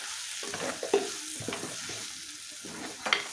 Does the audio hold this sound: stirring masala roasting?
yes